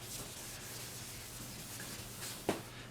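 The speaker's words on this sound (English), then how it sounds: "So I'm just using 1000 grit and keeping it wet, nice and wet to that." Wet 1000-grit sandpaper rubs over painted car door panel to knock down orange peel, a soft, continuous, close hiss of wet sanding with a brief bump near the end.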